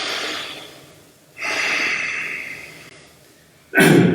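A person in a seated yoga spinal twist breathes deeply, giving a long exhale, then a drawn-out breath that slowly fades, and finally a sharp, loud inhale or snort at the end, all close and clear.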